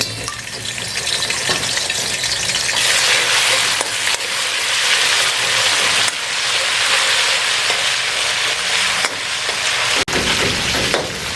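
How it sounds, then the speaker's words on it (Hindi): Ginger garlic paste fries in hot oil for Lahori beef paya, giving a loud, steady sizzle with occasional stirring scrapes that runs the whole time with no talk. "इसमें हम शामिल करते हैं 1 टेबलस्पून अदरक और लहसुन का पेस्ट"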